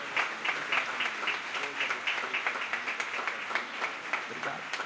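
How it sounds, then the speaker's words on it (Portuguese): A church congregation applauds their pastor with a dense, steady wash of clapping that carries rhythmic bursts, as if many hands fall into a loose beat, filling the room for about five seconds. "Dá uma salva de palmas para o nosso pastor."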